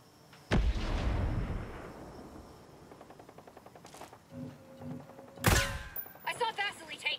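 Sniper gunfire in Ghost Recon Breakpoint, with a loud sharp crack at the start followed by a fading rumble, a rapid train of smaller shots in the middle, and a second heavy blast near the end trailing into ringing debris.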